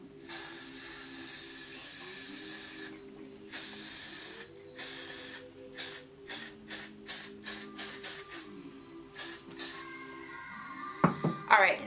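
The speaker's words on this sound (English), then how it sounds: "Now I'm gonna go in with the Got To Be Glued Blasting Freeze Spray" Got To Be Glued Blasting Freeze Spray is sprayed from an aerosol can onto gel on a blonde lace frontal wig. Two longer hissing blasts are followed by a run of short, quick spritzes, close and fairly quiet.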